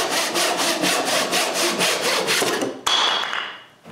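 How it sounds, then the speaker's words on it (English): A bandsaw cuts through a glued-up wooden blank in a workshop, a loud rasping whir with rapid rhythmic pulses that stops abruptly near the end, followed by a brief high whine as the blade runs free. "Then I can begin with the bandsaw."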